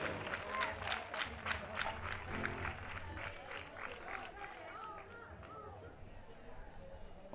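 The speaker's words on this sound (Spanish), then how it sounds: "fuerte aplauso" Loud audience applause with steady dense clapping fills the space at a live flamenco rumba performance, holding strong then thinning slightly toward the end.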